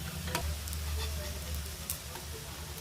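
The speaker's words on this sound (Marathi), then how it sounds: "तव्यामध्ये मी पुन्हा थोडंसं तूप घातलेलं आहे उरलेले जे आपले कंद आहेत ना ते पण आता आपण हे तळून घेणार आहोत" Tubers frying in ghee on a griddle give a steady close sizzle with a low rumble underneath and a few faint scraping ticks.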